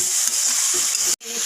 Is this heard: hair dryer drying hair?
no